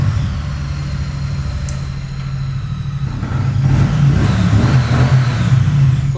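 A used superbike's engine runs steadily close by, then revs up and stays louder and rougher for the last few seconds, with no talk over it.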